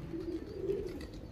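Pigeons coo steadily in a low, soft murmur through the whole short stretch, close by and fairly quiet, with no talking.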